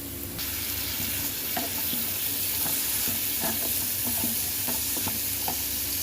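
Chana dal and onions frying in a pan, stirred with a utensil that scrapes and clicks at irregular intervals over a steady close sizzle.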